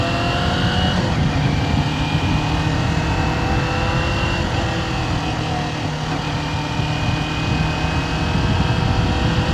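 A Kawasaki Ninja 400 motorcycle cruises along a road with a continuous, steady engine drone and wind noise close to the rider, holding an even pitch throughout.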